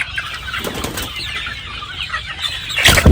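Hatch Gray chickens settle in to roost for the night, wings flapping and soft clucks and rustles rising close by, ending in a louder flurry of flapping.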